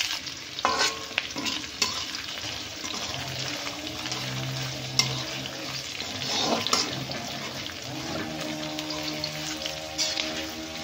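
Whole garam masala, bay leaves, dried red chillies, a pinch of sugar and onions frying in plenty of oil for restaurant-style biryani, a steady close sizzle with stirring scrapes and clinks throughout, no talking.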